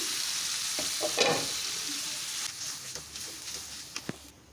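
Chicken liver being stirred and fried in a pan, a steady sizzle with scraping spoon strokes and a few sharper clicks, close and moderately loud, with no talking.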